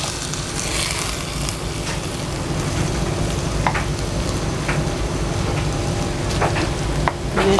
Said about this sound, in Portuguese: Vamos deixar que a moela frita aqui um pouquinho nesta cebola, neste alho, neste azeite.